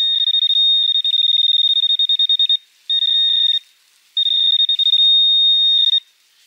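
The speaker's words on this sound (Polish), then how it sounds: "Teraz użyję ręcznego wykrywacza metali, żeby precyzyjnie namierzyć ten sygnał." A handheld metal detector pinpoints a signal in a hole in the ground while hunting mushrooms, giving loud, shrill electronic beeping in rapid pulsing runs that stop and restart three times, with no talk.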